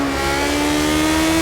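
Lotus 72 Formula 1 race car in Project Cars, engine held at a loud, steady high-pitched rev with a sustained whining tone, close and continuous.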